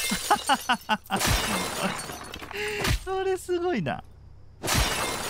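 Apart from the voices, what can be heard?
window glass shattering in the video game Crime Simulator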